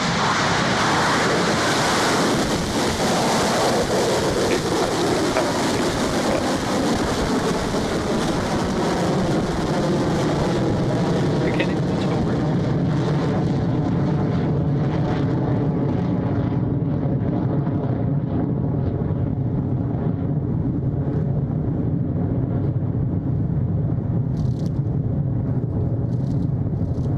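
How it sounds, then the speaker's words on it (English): A Rocket Lab Electron rocket lifts off from Launch Complex 1 on the Cosmos satellite launch, a continuous broadband roar that stays loud and steady throughout with no voices over it. "Electron has left the pad and is off to meet the cosmos on this launch from Launch Complex 1"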